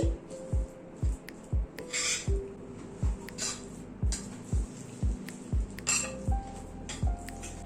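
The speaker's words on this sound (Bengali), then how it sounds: "সব মশলাগুলোকে ভালো করে মিশিয়ে নিচ্ছি।" Chicken legs being hand-mixed with spices, roasted gram flour and a tablespoon of mustard oil, giving a steady run of soft wet squelches and rubs roughly twice a second, close by, with faint clinks of a bowl.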